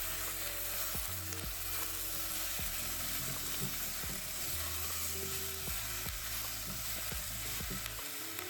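Pumpkin chunks sizzle in a pan of butter and garlic while being stirred, a steady close frying hiss with occasional soft knocks of a spoon against the pan and no talking.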